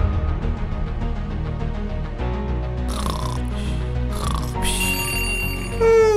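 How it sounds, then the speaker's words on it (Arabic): A loud alarm clock rings inside a Roblox game, its bright repeated electronic tones building toward the end over steady game music, with no talk. "يا دي المنبه اللي صوته عالي ده"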